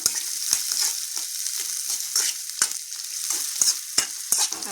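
Pickled chillies stir-fried slowly in a pan with cumin: steady close sizzle with repeated scraping stirs of a utensil, no talking.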